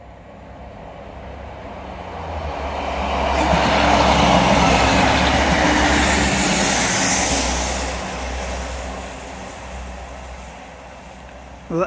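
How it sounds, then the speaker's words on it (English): A train on the railway line towards Exeter near Teignmouth passes by, a broad rumbling roar that swells to a peak and slowly fades, heard from a distance outdoors. "that's the third train that's gone towards Exeter"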